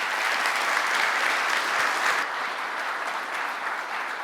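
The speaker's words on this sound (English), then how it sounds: "Let's give him another round of applause" An audience at a general session applauds a speaker, a dense, continuous wash of clapping from a large crowd that holds steady and eases slightly toward the end.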